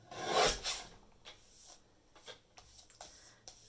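Card stock being chopped down to size with a paper trimmer for an embossing craft project, one loud close rasping cut followed by several fainter clicks and scrapes at irregular intervals.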